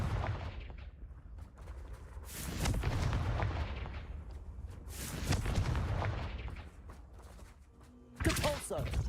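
The Confringo blasting spell in the video game Hogwarts Legacy sets off a string of booming, rumbling explosions with crackling debris, swelling and fading, and a final sharp blast near the end.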